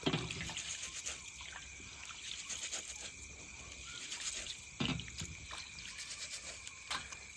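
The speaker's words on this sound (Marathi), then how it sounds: "असं चोळून चोळून धुवा लागतो मळकट पाणी निघतं ह्यात" Close, quiet sloshing and trickling of water as rice grains are rubbed and swished by hand, with occasional splashes.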